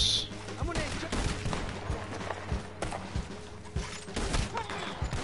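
Gunfire rings out in the Red Dead Redemption 2 Online video game, several sharp loud shots spaced irregularly over a noisy game backdrop, with a voice speaking between them.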